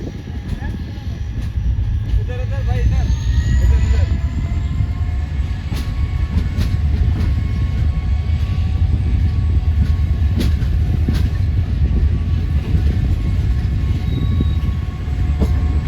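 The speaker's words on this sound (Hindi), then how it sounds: "तो 12:20 पर ट्रेन हमारी रवाना हो रही है चांदी रेलवे स्टेशन से।" A passenger train pulls out of a railway station with a heavy, continuous low rumble and faint metallic squeals and clicks, while voices murmur faintly underneath.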